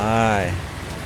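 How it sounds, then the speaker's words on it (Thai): Steady hiss of rain falling at a muddy work site in the video game Farming Simulator 19. A brief voice sounds at the start, then the rain's even noise continues alone. "ฝนตกเลยวันนี้ ทางก็เละนะครับ"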